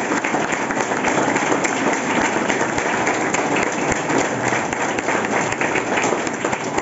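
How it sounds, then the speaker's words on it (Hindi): A school audience bursts into loud, steady applause to congratulate a student selected for MBBS, a dense, continuous wash of many hands clapping that holds without a break. "एक जोरदार सी तालियों के साथ"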